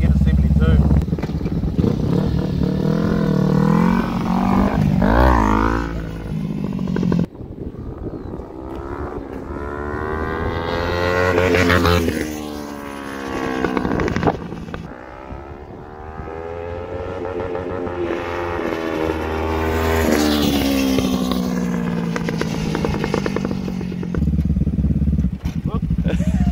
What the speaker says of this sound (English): I'm revving the engine out as fast as I can get to 72.